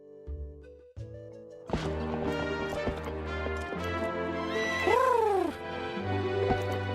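Neighing and hoof clip-clop from a horse in Zelda: Twilight Princess, a rising whinny cry standing out over steady game music, near and fairly loud.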